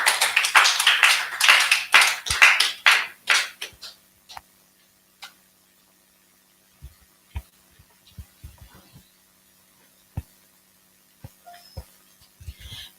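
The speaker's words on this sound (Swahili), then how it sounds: "Tumpigie makofi." A church audience at an evening service in Nairobi claps for a pastor, a loud dense burst of applause that thins after a few seconds into scattered single claps and taps.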